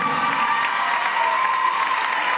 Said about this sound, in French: Mesdames, messieurs, vous pouvez applaudir Kevin Gessler avec Marie Pellier.